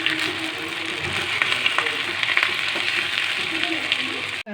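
Curry leaves frying in hot tempering oil alongside ginger, garlic and mint for bagara rice, a steady close sizzle with faint crackles throughout, ending abruptly.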